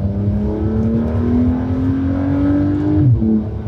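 A stock turbocharged Porsche flat-six revs close and loud, its pitch climbing steadily through the gear before a quick shift drops the revs near the end.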